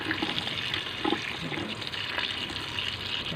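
Water gushes and splashes over cooked spaghetti being rinsed in a sink, a loud continuous rushing pour close by with small bursts of splatter, no talking.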